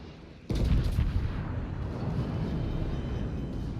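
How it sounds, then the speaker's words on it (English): Battleship main guns firing a half salvo in World of Warships, a sudden deep booming blast at about half a second with a rolling rumble that lingers and fades slowly, with no talk. "Half salvo."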